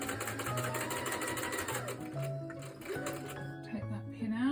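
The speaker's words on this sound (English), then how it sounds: "So we're going to go forward a couple of stitches, go back a couple of stitches, and that just grounds the stitches in." A sewing machine stitches a few stitches forward and a few back while making a fabric tissue holder, a steady close whirring hum that pauses and restarts, with a voice talking over it.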